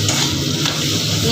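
Spice paste with fish head stir-fried in a pan, a loud, close, continuous sizzle with scraping stirring strokes throughout.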